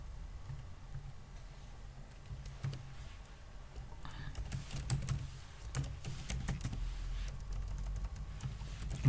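Java code is typed on a computer keyboard in quiet, uneven runs of soft key taps that continue steadily, with no talking.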